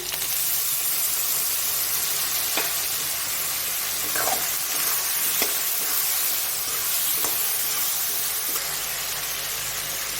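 A paste of cumin, chilli powder, turmeric and coriander sizzles steadily in a hot pan for a raw jackfruit curry: loud, close, continuous frying hiss, with a few faint scrapes and taps of stirring.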